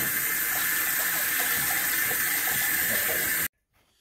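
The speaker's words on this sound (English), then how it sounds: "Then we'll just rinse it off and set it aside." Tap water runs steadily over styrofoam incubator trays as they are rinsed in a sink, a continuous close splashing hiss that cuts off abruptly near the end.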